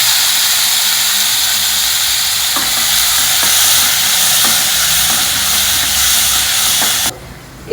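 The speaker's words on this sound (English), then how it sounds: "Next I am adding one chopped onion and one tomato." Chopped onion and tomato dropped into a hot pan with methi seeds for a South Indian kuzhambu, a loud steamy hiss and sizzle with faint stirring clicks that cuts off abruptly near the end.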